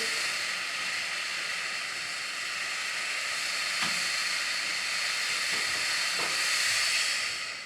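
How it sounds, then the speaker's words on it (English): A clothes steamer hisses steadily onto a crocheted amigurumi bunny, a continuous close, loud hiss with faint small clicks and no talking. "Okay, so the steam is going."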